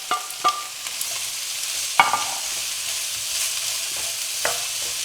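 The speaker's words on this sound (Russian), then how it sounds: "И мы добавляем сюда к чесноку лук. И лук тоже хорошо прожарим, чтобы он стал мягкий," Chopped onion fries with garlic in a pan, a steady close hiss and crackle punctuated by a few sharp clicks of a utensil against the pan.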